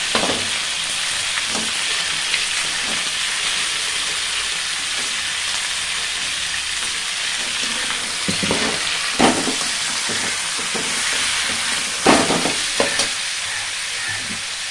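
Crab sautéing in a pan, a steady loud sizzle and frying hiss running throughout, with occasional sharper stirring scrapes and clatters of a spoon against the pan.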